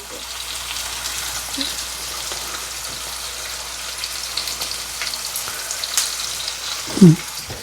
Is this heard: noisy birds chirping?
no